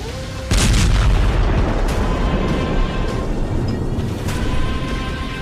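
A missile exploding on the Karaj bridge in Iran sets off a sudden loud boom, followed by a long, heavy rumble that sustains and slowly fades across several seconds, with no voices heard.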